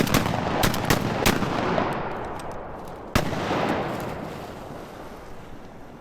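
Several sharp shotgun blasts ring out over open water during a North Carolina duck hunt, a quick cluster of loud reports followed after a pause by one more shot, each fading into a long echo.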